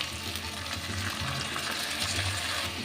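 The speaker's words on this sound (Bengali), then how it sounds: "মাংসটা আমি খুব ভালো করে ভেজে নিয়েছি এখন দিয়ে দেব এই রসুন আদা কাঁচা লঙ্কা বাটাটা" Meat fries in a pan with garlic, ginger and green chili paste, sizzling in a steady close hiss with faint stirring and no talk over it.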